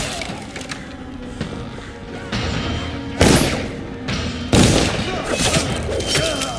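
Guards opening fire in the Dishonored video game, with a burst of gunshots and sharp impacts breaking over a busy background of combat noise, the loudest cracks landing near the middle and later in the clip.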